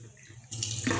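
Water runs from a kitchen tap to measure out cups for cooking rice, bursting on suddenly halfway through as a steady close rush and then deepening as it fills a container.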